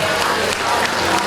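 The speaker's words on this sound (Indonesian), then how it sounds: "tepuk tangan semuanya" Audience applause fills the space as a dense, continuous wash of clapping from many hands, loud and close throughout.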